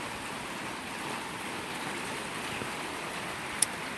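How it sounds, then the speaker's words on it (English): Steady rain pours down in a continuous hiss, close and even, with one brief sharp tick near the end. "Here comes the rain again."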